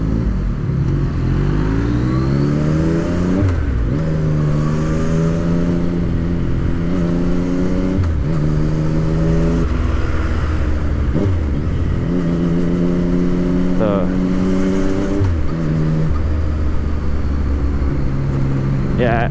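A 2015 Yamaha MT-09 naked bike engine revs up and down while riding, with loud repeated rising pulls and drops in pitch over constant wind noise.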